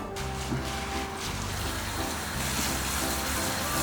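Dried chili peppers, including xiaomi la, qixing jiao and erjingtiao, being washed by hand in water, a steady sloshing and splashing with a few soft knocks, no talking over it.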